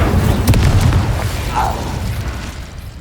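The Incendio fire spell in Hogwarts Legacy, a loud booming burst with a deep rumbling tail that fades over a few seconds, plus a short whooshing flare midway.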